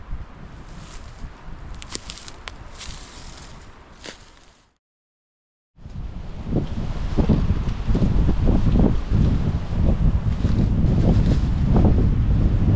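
Strong wind blows near a field in spring, buffeting and rumbling loudly across the microphone. A brief cutout leaves silence before the gusts return with heavier, sustained roaring.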